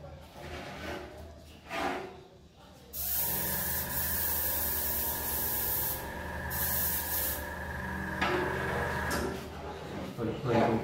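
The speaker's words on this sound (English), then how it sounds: "Put a pretty good coat on now." Spray gun laying a coat of fast-drying lacquer paint during a two-tone paint job, a steady close hiss lasting several seconds with brief breaks and restarts.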